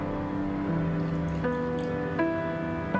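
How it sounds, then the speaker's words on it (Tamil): Water being poured into a coconut milk and buttermilk mixture, a soft, close liquid trickle with gentle dripping, quiet and continuous with no talking. "இப்போ இது கூட 2 கப் அளவுக்கு தண்ணியை சேர்த்துக்கலாம்"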